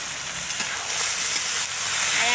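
A spiced mixture with chopped garlic, salt and turmeric frying in a pan hisses in an even, loud sizzle as it gets a brief stir.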